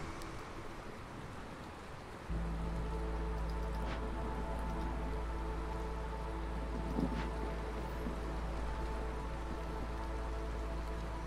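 Steady heavy rain and storm hiss from the hailstorm in the video game Against the Storm, a dense continuous wash with a low drone setting in after a couple of seconds, with no talking over it.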